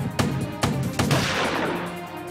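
Gunshots ring out during a clash between rival candidates' supporters at polling in Nuh, Mewat, Haryana: three sharp, loud cracks in quick irregular succession, each trailing into a ringing reverberant decay.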